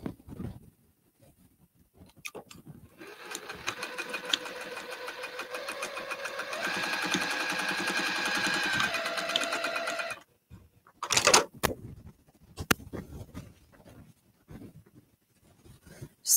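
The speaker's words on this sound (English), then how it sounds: "Now maybe the sewing machine, Ramel." A home sewing machine runs a steady mechanical stitching burst for several seconds while a drawstring bag is being sewn, then stops, followed by a few short handling clatters close by.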